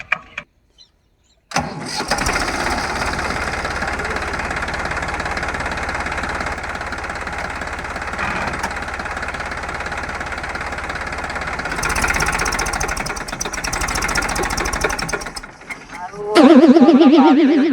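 A tractor engine cranks after a short silence, catches, and settles into a loud, steady diesel chug that runs on for many seconds before revving up sharply near the end, with people talking nearby.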